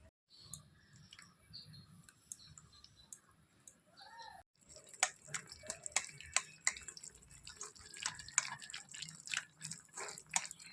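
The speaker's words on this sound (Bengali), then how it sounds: "প্রথমে কাঁঠালের থেকে রসগুলো বের করে নেব।" Juice being squeezed from jackfruit pulp drips and splatters in small, close irregular drops, quiet and sparse at first, then denser and louder wet drips and clicks.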